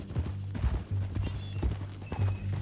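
Horse hooves clip-clop at a steady walking rhythm in the Red Dead Redemption 2 video game, fairly close and moderately loud, with creaks and a faint high tone over the beat.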